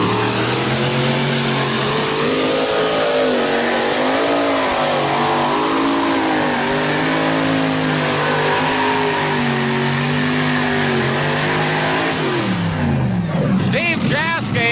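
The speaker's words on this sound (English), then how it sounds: "Steve JASKE will give it a full throttle." A modified pulling tractor roars at full throttle during a 1989 NTPA 9200 Modified tractor pull in Atco, NJ. The engine is loud and sustained, with its pitch rising and falling, and an announcer talks over it.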